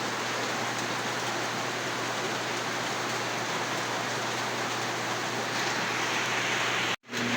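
Steady, dense rain falls without a break, a loud continuous hiss that covers everything else until it cuts off abruptly at the very end.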